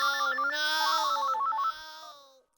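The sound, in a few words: telephone ringing after dialing a call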